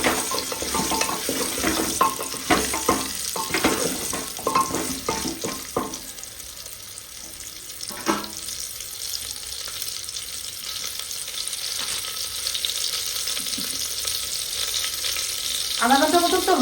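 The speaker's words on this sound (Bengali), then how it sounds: "স্টিলের খুন্তি থেকে কাঠের খুন্তিতে নাড়া দিতে খুব ভালো লাগছে।" Mutton pieces being stirred with a wooden spatula in an open pan, giving a steady frying sizzle with scraping, knocking strokes early on that thin out to a continuous hiss, with a brief watery clatter near the end.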